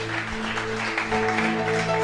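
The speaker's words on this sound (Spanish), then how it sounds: "Dele ese aplauso con toda su fuerza en esta hora" A church congregation applauds together during a sermon, a sustained wash of clapping with organ or keyboard tones holding underneath.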